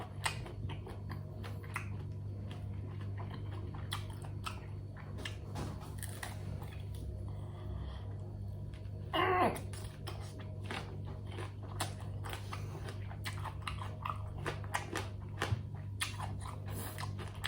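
Someone chews steamed squid with lime close to the mic, giving a long run of wet, crunchy bites and mastication over a low steady hum, with a brief louder burst midway and no clear talking.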